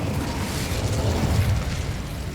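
A fire spell cast in the Hogwarts Legacy video game makes a steady, dense burst of crackling, roaring noise that holds for a couple of seconds with no one speaking.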